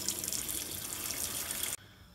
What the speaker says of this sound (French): on va remettre à tremper dans de l'eau froide